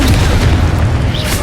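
Expulso spell explosion in the PS4 video game Hogwarts Legacy: a loud, dense booming blast with heavy low rumble sustained throughout, no talk over it.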